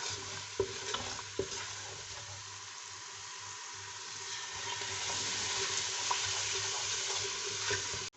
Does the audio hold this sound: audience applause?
no